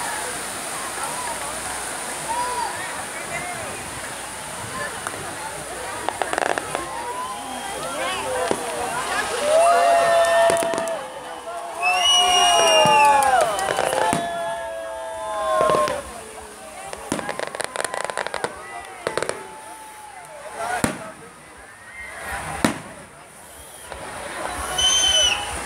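New Year fireworks over Ubatuba, Brazil, crackle and whistle continuously, with sharp bursts and rising shrieks at a moderate distance as people chatter and shout throughout.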